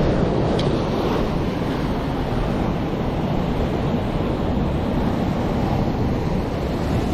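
Ocean surf on the shore at a fishing spot, a loud continuous roar of breaking waves with heavy wind rumble on the microphone, no voices.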